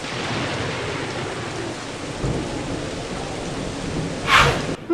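Steady rain hisses throughout a gloomy stage in the BattleBlock Theater video game, with a dull thunder rumble midway and a sharper, brighter crack of thunder near the end, no voices present.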